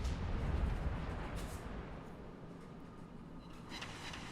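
Torpedo hits destroying an enemy cruiser in a naval warship video game, a loud rumbling boom that rolls and fades into a low sustained roar, with a faint second swell near the end and no voices.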